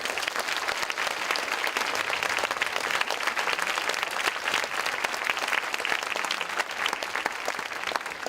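Steady, full applause from the audience at the final of a debate tournament, a continuous crackle of many hands lasting around eight seconds with no talk over it.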